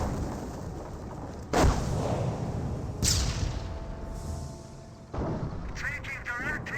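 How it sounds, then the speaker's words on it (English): An anti-tank gun fires in Company of Heroes, a World War II strategy game: three heavy booming shots, spaced a second or two apart, punch through battlefield ambience while a commentator talks over them. "AT gun is firing away"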